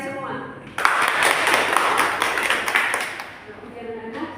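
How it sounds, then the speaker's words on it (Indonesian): Students in a classroom clapping together, a sudden burst of hand claps that starts sharply, holds for about two seconds and tails off, with talk around it. "tepuk tangan dulu untuk kalian semua"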